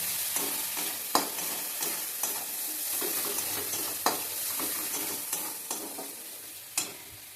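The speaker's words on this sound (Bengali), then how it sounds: "সামান্য লঙ্কা গুঁড়ো সামান্য ধনে গুঁড়ো এরপরে মশলাটাকে ভালোভাবে আমি কষিয়ে নেব" Spice paste with salt, chilli powder and coriander powder fries in a pan, a continuous close sizzle punctuated by regular sharp knocks and scrapes of a spatula stirring, with no voices.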